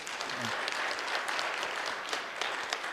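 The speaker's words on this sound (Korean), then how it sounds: "이 정도 되면 박수 한번 쳐주세요." Steady applause from an audience, a dense wash of many hands clapping at a constant level for the full stretch, with no voices over it.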